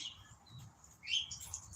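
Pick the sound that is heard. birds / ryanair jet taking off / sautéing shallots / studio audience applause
birds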